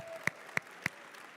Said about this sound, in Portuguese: vamos aplaudi-la aí.